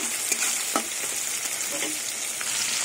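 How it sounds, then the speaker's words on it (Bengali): Green chillies and chopped onion sizzle steadily in a hot pan of oil, a close, continuous frying hiss with a few sharper crackles and spits throughout. "কাঁচা লঙ্কা আর পেঁয়াজ কিছুক্ষণ ভেজে নেব"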